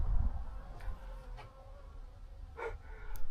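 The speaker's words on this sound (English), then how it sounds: "It's like a full bloody nest of wasps." Wasps buzz around a nest in a steady, faint drone over a low rumble, with a few brief louder swells as individual insects pass close by.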